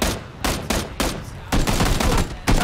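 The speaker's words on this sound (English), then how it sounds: "Oh, I just got shot at." Loud bursts of automatic gunfire ring out in the battle royale video game PUBG, several close volleys of rapid shots cracking one after another.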